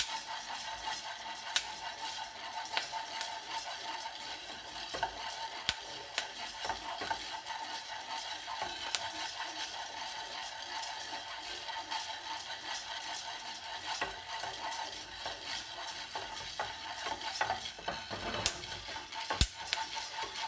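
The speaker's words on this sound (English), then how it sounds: "So that was the sound of first crack. It kind of sounds like popcorn." Coffee beans crackling at first crack during home roasting, a steady hiss of scattered sharp pops and ticks like popcorn, a few louder snaps standing out, continuous and fairly close with no voices.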